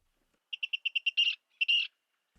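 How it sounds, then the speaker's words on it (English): A Virginia rail, a secretive North American marsh bird, gives a clear call: a quick run of evenly spaced ticking notes followed by two harsher, buzzy grunting bursts, alone in silence. "That's the call of the Virginia rail."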